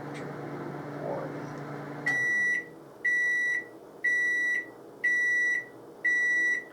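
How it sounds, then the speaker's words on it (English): A Cuisinart microwave oven hums as it runs, then its finishing buzzer sounds five loud, evenly spaced electronic beeps about a second apart, clear and close with no talking. "I hate that buzzer sound."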